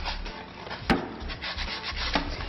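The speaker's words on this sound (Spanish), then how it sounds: "Vamos a lijarlas muy bien las tres. Las partes de adentro, súper importante la lijadita." Sandpaper rubbed by hand across the inner edges of a wooden geometric picture frame, a continuous close scratchy rasp in uneven strokes with a couple of small knocks.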